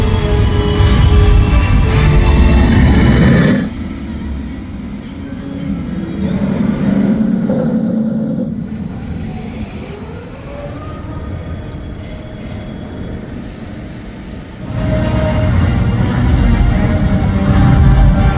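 The Penguin Trek roller coaster at SeaWorld Orlando running through its track, a loud rumbling roar of the train passing close, fading to a quieter mechanical hum, then surging loud again as another train passes.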